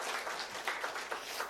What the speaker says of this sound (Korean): 우리 성가대 위에서도 함께 우리 격려의 박수